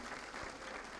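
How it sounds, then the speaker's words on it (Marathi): Brief burst of audience applause for a guest at an outdoor public talk, a dense even clatter of many hands from a crowd. "टाळ्या वाजवा यांच्यासाठी."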